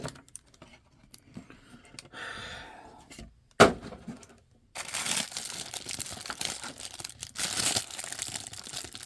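Paper packing material crinkles and rustles close by while an action figure is unboxed, with soft handling sounds, one sharp knock, then a stretch of louder, continuous crumpling.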